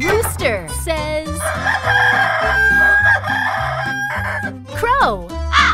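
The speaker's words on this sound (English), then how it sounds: "Rooster says..." A rooster crows loud and close in a long cock-a-doodle-doo over a steady background of bouncy music, with short squeaky voice-like notes at the start and end.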